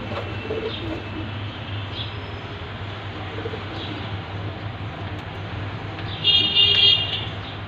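Punjabi pigeons coo softly and repeatedly over a steady background hum, with a brief car horn toot near the end.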